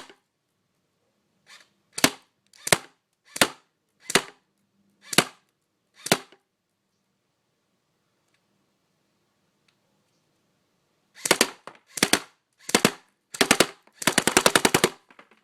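JG Tactical RIS AK47 airsoft electric gun firing outdoors at about 50 feet: six sharp single shots spaced a second apart, a long quiet gap, then more quick shots ending in a short rapid burst, close and crisp.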